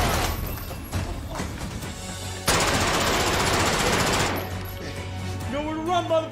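Rapid automatic machine gun fire from an SCP Mario short film, dense sustained bursts with a loud stretch in the middle and scattered shots around it, with voices talking over parts.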